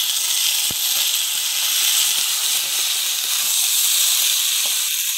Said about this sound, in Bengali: ভাজা হয়ে গিয়েছে, এবার এর মধ্যে কেটে রাখা ওলগুলো দিয়ে দেব।